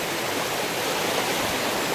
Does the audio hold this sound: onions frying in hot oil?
no